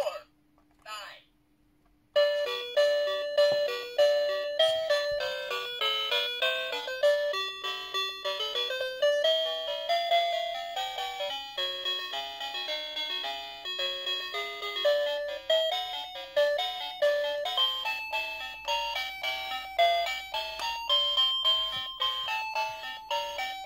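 Children's musical toy phone plays a bright, electronic chiming melody of rapid, steady tones, loud and close, continuing without pause after a brief quiet start.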